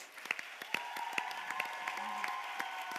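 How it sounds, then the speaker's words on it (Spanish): Scattered applause from an audience at a music contest, fairly faint and thin, with distinct individual claps over a soft background tone, lasting a few seconds. "Lle damos un forte aplauso"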